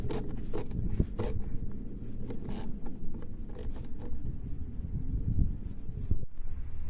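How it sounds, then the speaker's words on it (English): Plastic clips on a Corvette air box being snapped and fastened by hand, a run of sharp clicks and scraping plastic handling, close and fairly loud, ending in a brief quiet gap. "Now it's in, we'll just tighten up the clips."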